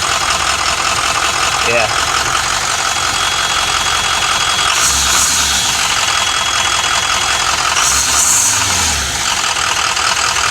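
An old, broken diesel bus engine idles loudly and steadily nearby, a constant rumbling drone with a few brief shifts in tone, while someone speaks briefly over it.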